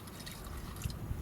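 Water trickles into a cooking pot at a campsite, just enough to cover dehydrated food, with a soft steady pour and a couple of low gurgling plops, quiet and close with no talking.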